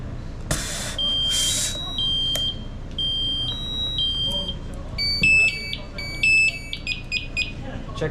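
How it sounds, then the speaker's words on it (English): A firefighter's SCBA PASS device, set off by pressing its red button, sounds a series of loud, piercing electronic alarm tones that step and warble, preceded by brief hissing bursts of air, close by. "also going to check to make sure that the red button activates the pass device immediately"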